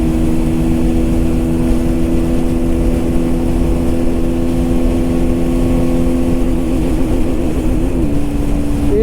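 KTM Duke 160 motorcycle engine in sixth gear at speed, a loud steady drone with a constant pitch throughout and wind rush underneath, shifting slightly in tone near the end.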